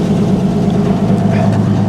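Steady, loud low idle of a 1955 GMC 350 Hydra-Matic truck engine, abandoned for over 30 years, rumbling close up with an even, continuous drone and no talk.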